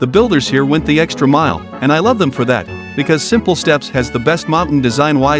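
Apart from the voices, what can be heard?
No distinct noise like a dog, phone or traffic.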